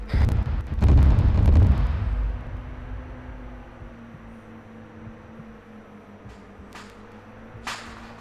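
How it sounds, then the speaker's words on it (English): Gunfire in the video game Task Force Athena, with a loud burst of shots early on, then a low rumbling tail and a couple of faint distant cracks near the end. "Shots fired."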